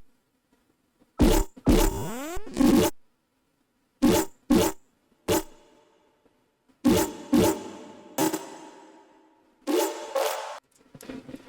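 Serum synth basses fed through a spectral oscillator with LFO-modulated chorus, a series of short, harsh, buzzing and gurgling bursts separated by silences, some with sweeping pitch and trailing decays, close and loud.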